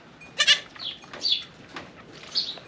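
Baby dairy goats bleat in several short, high cries spread across a few seconds, close by and fairly quiet, with no talking.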